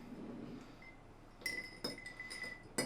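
A metal bar spoon stirs a cocktail over ice in a glass, giving a faint low swirl followed by several bright, ringing clinks spaced irregularly, close and quiet with no voices.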